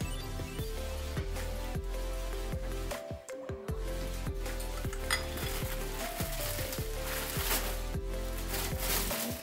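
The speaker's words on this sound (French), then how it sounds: "On a besoin de beurre pour mettre dans notre poêle." Butter melts and sizzles in a frying pan during brunch cooking, a steady sizzle running under repeated clinks and scrapes of utensils against the pan and dishes.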